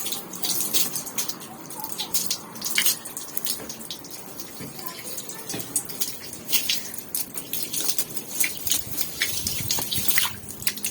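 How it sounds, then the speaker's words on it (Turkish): Water sprays over lettuces in a home garden, a fairly faint, uneven hiss with splashy bursts and dripping that continues for several seconds. "Bir de şurada bahçemdeki marulları su tutayım."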